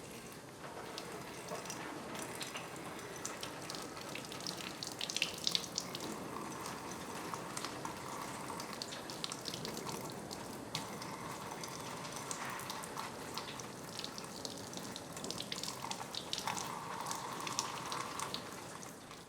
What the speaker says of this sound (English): Wash gently with soap and water.